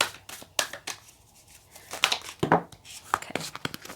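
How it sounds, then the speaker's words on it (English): Tarot cards being shuffled by hand in bursts of papery riffling and flicking, close and fairly quiet, with pauses between the bursts. "It is actually a workout sometimes shuffling these cards"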